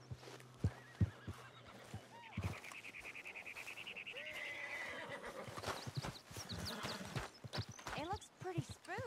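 A spooked horse in Red Dead Redemption 2 lets out a long shrill whinny, with clip-clop hoofbeats, snorts and a second neigh around it, while voices talk throughout.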